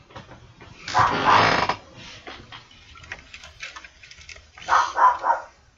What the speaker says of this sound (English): Oh, my dogs. Sometimes that happens. They'll be okay. Hopefully, they stop barking.